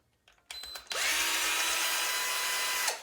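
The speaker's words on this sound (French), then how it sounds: "Hop, on dévisse l'arrière." A power screwdriver backing screws out of the rear of a Traxxas Maxx RC car: a few short clicks, then a loud, close, steady high whine for about two seconds that winds down at the end.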